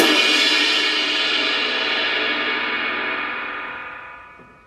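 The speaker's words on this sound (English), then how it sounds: "If I got really loud, it'd sound like this." A Yamaha Stage Custom drum kit struck loudly: a single bright, washy metallic crash that rings at full volume and then slowly decays over several seconds with some room reverb.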